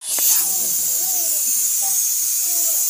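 Hot oil in a pan heating up to fry kanda bhaji gives off a loud, steady sizzling hiss, with faint voices in the background.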